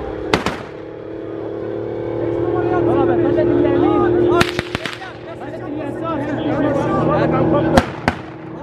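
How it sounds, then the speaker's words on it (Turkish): Gunfire and explosions from fighting nearby during a military operation in Afrin, a few sharp loud cracks and bangs standing out over a steady rumble, with a voice talking in the foreground. "yakınlarda süren çatışma sesleri de görüntülere yansıdı"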